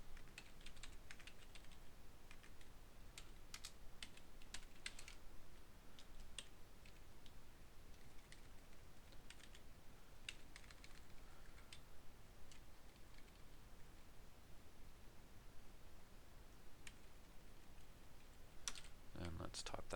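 Fast, irregular keystrokes on a computer keyboard, typed in quick bursts with short pauses between them, close to the microphone over a steady faint background hiss.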